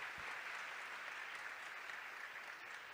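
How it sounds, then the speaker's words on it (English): Audience clapping at a presentation on making Oscar-nominated animated films: a dense, even wash of applause, soft and distant, continuing without a break. "Stop the clapping"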